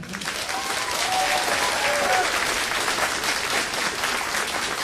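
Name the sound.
audience applause at school fine arts night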